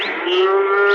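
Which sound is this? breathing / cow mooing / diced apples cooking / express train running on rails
cow mooing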